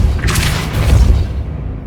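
A Depulso spell is cast in Hogwarts Legacy, a single loud booming thump with a brief whooshing swell, quickly fading into a low rumble.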